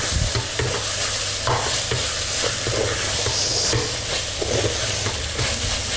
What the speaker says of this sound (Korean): 고추장 2수저, 넣고 한 번 더 잘 섞일 수 있도록 볶아줍니다